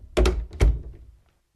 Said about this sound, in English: He went out of the front door into the street.